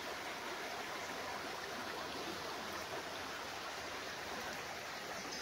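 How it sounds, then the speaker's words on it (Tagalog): A clear stream on a farm lot in Liliw, Laguna flows in a steady, unbroken rush of running water, close and even throughout, with no voices. "Malinaw po ang tubig. At tuloy-tuloy po ang agos niyan."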